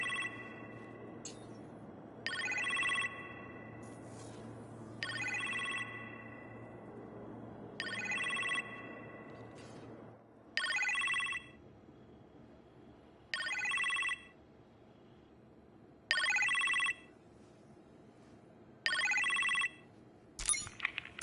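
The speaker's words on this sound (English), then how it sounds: "You appear to have a phone call in the kitchen," Telephone ringing in the kitchen in Iron Man VR, a repeating electronic ring sounding in regular bursts about every two and a half seconds, clear and fairly loud over a low ambient hum that drops away midway.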